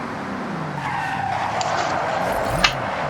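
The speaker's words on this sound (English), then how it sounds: "Just spinning it out." A car skids and spins out in the Forza Horizon racing game, a loud continuous roar of engine and tire noise with a squealing slide that rises and falls.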